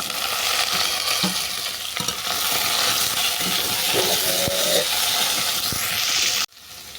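Chopped vegetables for spinach ghonto are stirred into hot oil tempered with dried red chilies, giving a loud, continuous sizzle with occasional scraping of the spatula, alone without talk, before dropping away at the end.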